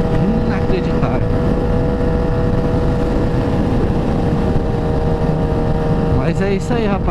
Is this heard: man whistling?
no